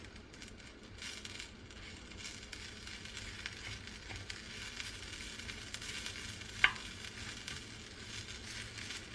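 Masoor dal roasting dry in a pan for chutney gives a soft, steady sizzle and faint crackle, with light stirring scrapes and one sharp clink near the end, heard alone without voices.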